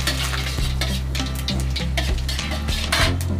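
Bay leaves and whole spices fry in hot oil with a loud, constant sizzle, broken by repeated scraping strokes of a spoon stirring the pan.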